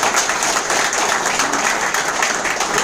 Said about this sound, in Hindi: एक बार मेरे साहब के लिए ताली हो जाए